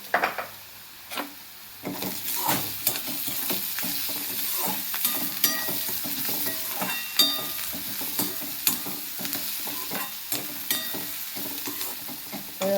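Sliced onion frying with a pinch of salt in a pan for a spicy green soybean pod usal, giving a constant sizzle broken by repeated scraping stirs of a spatula, fairly close and steady.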